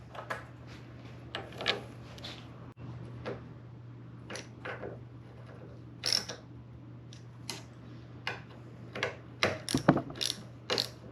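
Bolting a mini outboard motor housing back down: a close series of quick ratchet clicks and metallic ticks in irregular bursts over a low steady hum.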